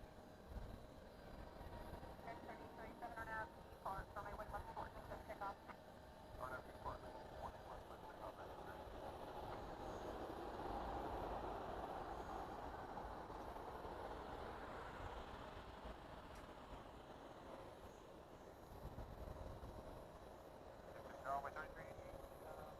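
A CRJ 900 jet airliner arrives at DFW Airport at night, its low, broad engine roar swelling and fading at a distance beneath faint background voices.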